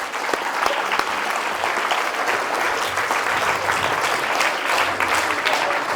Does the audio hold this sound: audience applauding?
yes